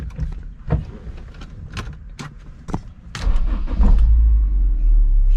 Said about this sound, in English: He's telling me to turn on the car.